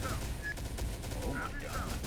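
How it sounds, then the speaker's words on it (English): Suppression squad machine guns firing in a base-building sandbox video game; dense, continuous rattling fire that blends into a steady roar, with faint voices underneath. "Oh, suppression squad. So it's a bunch of machine guns."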